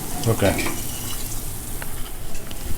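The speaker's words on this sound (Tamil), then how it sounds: "இந்த புளி ஜலமும் விட்டுடணும்." Tamarind water pours and splashes into a cooking pot with white pumpkin in a short burst near the start, then a soft steady sizzle and bubbling continue underneath.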